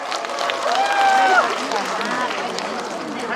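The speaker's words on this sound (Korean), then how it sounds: "다시 한 번 큰 박수 부탁드리겠습니다" An audience applauds at an outdoor temple mountain concert, a dense wash of clapping from a crowd that swells and then holds, with amplified voice or tones above it.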